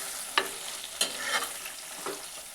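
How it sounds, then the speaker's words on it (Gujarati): Green chillies sauté in a hot pan with a steady, close sizzle, broken by a few sharp scrapes as a spoon stirs them every half second or so. "મરચાંને આપણે આ રીતે હલાવતા રહ્યા છે અને 1 મિનિટ જેવું તેને સાતળી લીધું છે."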